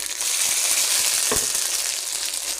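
Dried chillies, panch phoron and cumin sizzle steadily in hot oil, a loud, continuous hiss close up, with one sharp clink or stir near the middle and no talking.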